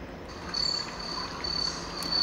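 A phone's forest ambience sound effect: crickets chirp in pulsing bursts, a high, thin trill repeating over a soft, hushed forest background, no voices.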